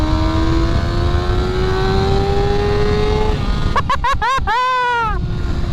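A Kawasaki ZX6 sport bike holds a steady engine drone, then sharp throttle blips and a rising acceleration run through the gears, loud and close with a brief shift stutter.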